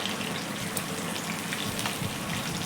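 Small pieces of fish fry in a pan with a dense, steady sizzle and crackle heard up close, unbroken for the whole moment.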